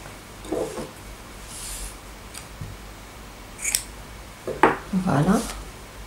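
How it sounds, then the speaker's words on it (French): Scissors snip through crochet yarn after a finished border row, giving a few short, sharp close cuts scattered among quiet handling noise. "je vais couper le fil."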